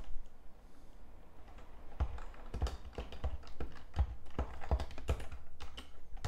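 Command typed on a computer keyboard: a quick run of close, crisp key taps and clicks, irregular in rhythm, with a short pause before the typing begins and no voices.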